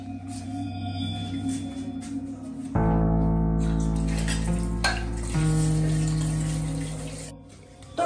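Dishes washed in a home kitchen, tap water running in a steady stream that swells midway, with light clinks of utensils and pans; no speech heard.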